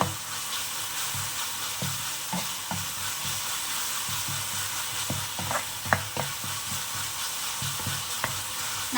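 Tomato and onion frying in a pan for a gravy, a constant close sizzle broken by repeated scraping stirs and light clinks of a spoon, with no voices.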